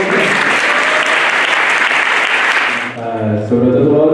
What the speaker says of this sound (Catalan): Aquí saludem amb un fort aplaudiment.